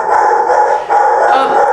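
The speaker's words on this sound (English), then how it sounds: "My dog is barking." A dog barks and howls indoors, fairly loud and continuous for under two seconds, with a brief dip midway before the sound resumes.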